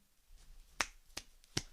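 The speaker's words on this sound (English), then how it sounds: "I can't snap my fingers any harder in that moment" Three crisp, sharp finger snaps ring out, evenly spaced and close, against a quiet background.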